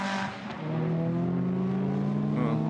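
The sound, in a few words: Lamborghini GT race car engine wailing as it passes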